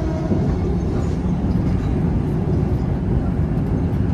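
A KA Java Priority passenger train runs straight through Kebumen station without stopping, a steady loud rumble of rolling wheels and cars close by, constant for the whole stretch with no voices.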